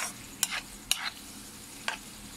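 Tomato egg bhurji being stirred in a pan, three distinct scraping clinks of a spatula spaced about half a second apart over a quiet background hiss.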